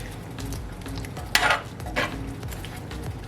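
A spoon stirs steak sauce into Jamaican-style pepper steak cooking in a pan, giving a couple of scraping clanks and a soft sizzle over a low kitchen hum, close and without talk.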